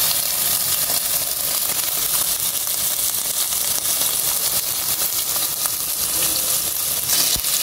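Beef seasoned with pepper and salt frying in a little oil in a pan, giving a steady, fairly loud hiss and crackle that runs unbroken throughout with no talking.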